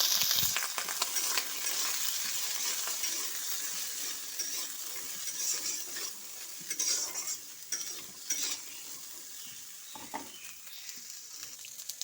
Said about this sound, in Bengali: আর কড়াইয়ে দিয়ে দিচ্ছি তেল, দিয়ে দিচ্ছি চানা আর সয়াবিন